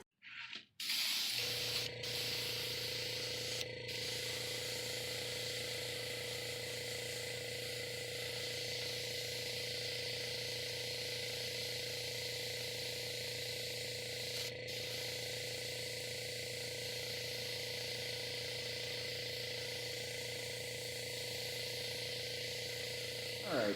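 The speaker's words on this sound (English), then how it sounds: "I'm going to use some Createx opaque black airbrush paint to turn this from this shiny, glittery, whitish color into black." Steady airbrush spraying Createx opaque black paint onto an EVA foam cosplay mask, a continuous close hiss with a few brief clicks and pauses, running unbroken for over twenty seconds.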